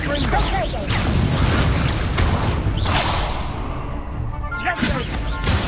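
Repeated Confringo spell explosions in the video game Hogwarts Legacy, loud booming blasts and crackling impacts in quick succession amid other spell effects, with a voice shouting over the action.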